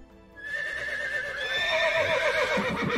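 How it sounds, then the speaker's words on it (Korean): Horses neighing loudly, a long, strong whinny that rises and wavers, close and clear, with faint hoof movement at the end. "고개단의 공연이 끝나자 말 울음소리가 요란하게 들리더니"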